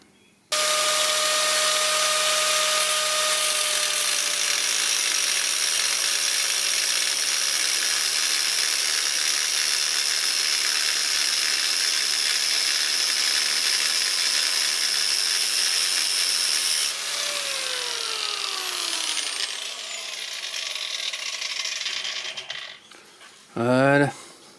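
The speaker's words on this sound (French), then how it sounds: "Et si ça va pas, bah un coup de disqueuse." Angle grinder cutting through a steering ball joint on a Dacia Sandero: a loud, steady, high-pitched whine holds close for about seventeen seconds, then the tone drops and fades as the disc spins down, with a brief clank at the end.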